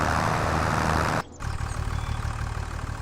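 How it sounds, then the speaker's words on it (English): A tractor engine in Farming Simulator 25 gives a loud, steady rumble close to the listener, cuts out abruptly for a moment, then resumes at a slightly lower level, with no one talking. "Wow, that tractor was massively loud in my ear."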